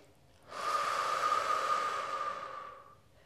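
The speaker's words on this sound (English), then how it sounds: "Continuing with that deep breathing." A single long, deep exhale during a glute-sculpting workout, a breathy rush rising sharply, holding steady for about two and a half seconds, then tapering off, close and clear with no talking.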